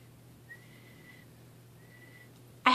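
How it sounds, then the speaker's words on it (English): A person tries to whistle, producing two thin, faint airy whistle tones, each held about a second, followed by a sudden loud burst of breathy noise at the end; no talking. "I have a really hard time whistling"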